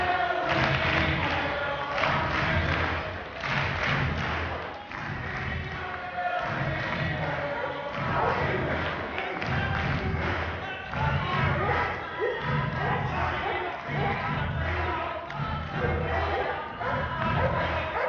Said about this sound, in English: what you've just seen there is two of our general purpose police dogs dealing with a crowd of people